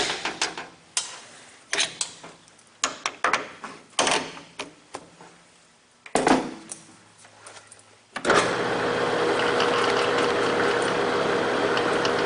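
Lathe tool chamfering the grooves of a metal part, heard as a run of uneven scraping and ticking contacts that gives way after about eight seconds to a loud, steady machining hiss that continues to the end.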